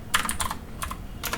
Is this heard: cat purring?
no